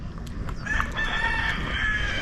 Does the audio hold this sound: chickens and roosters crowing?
yes